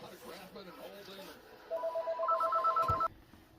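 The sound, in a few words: telephone ringing, call from a family member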